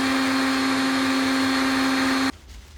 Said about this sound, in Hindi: माँ जी ने पहले से मिक्सी में से कूटा